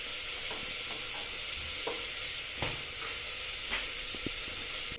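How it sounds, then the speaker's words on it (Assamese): Cashews and raisins frying in a pan give a steady loud sizzle, broken by a few scraping, clinking stirs of a spoon against the metal, with no voices. "ভালকৈ লৰাই দি দিম অকণমান এইখিনি ফ্ৰাই নিচিনা হৈ লওক"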